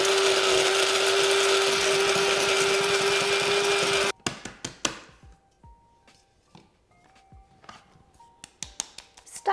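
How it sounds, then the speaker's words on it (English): An electric grinder grinds homemade tempeh starter into a fine powder, running loud and steady at close range with a high whine for about four seconds before it cuts off, followed by faint rattling and tapping. "It's going to be a little bit noisy, but I'm going to pop it on to grind."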